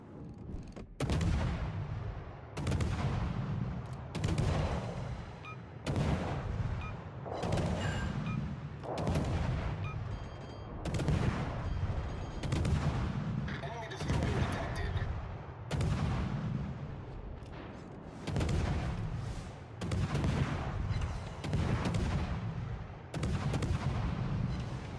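Warship main guns fire in World of Warships: Legends with a Friesland and Yudachi, loud booming salvos repeating about every one and a half seconds, each with a rolling tail, with no talking.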